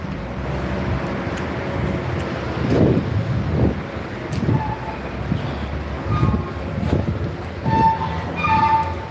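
A train arriving at a station, a steady low rumble of rolling wagons with swelling surges, brakes squealing faintly and distant high-pitched tones, close and fairly loud.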